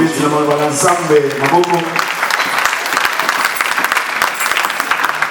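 A church congregation breaks into loud, sustained applause, a dense wash of clapping that starts under a voice and then carries on alone, close and full.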